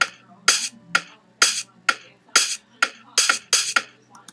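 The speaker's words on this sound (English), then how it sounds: "the kick and the snare up here sound like this." Kick and snare samples from an Ableton Live drum rack play a simple pattern, sharp bright hits alternating with low thumps at an even, steady rhythm, about nine strikes alone and fairly loud.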